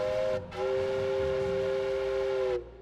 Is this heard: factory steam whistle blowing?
yes